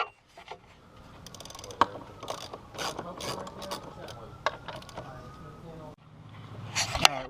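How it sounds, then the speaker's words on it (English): A ratchet clicks in short, uneven bursts while bolts are loosened from the hydraulic pump of a Mercury Black Max outboard trim motor. The work is close up, with a few sharper snaps and pauses between turns. "we took the 3 bolts loose on this side, the 3 bolts loose on that side"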